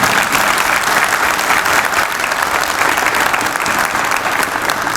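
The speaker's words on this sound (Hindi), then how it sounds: "बहुत सी तालियां होनी चाहिए।" Loud, full audience applause at an office staff recognition gathering, a continuous dense wash of clapping lasting the whole five seconds with no speech.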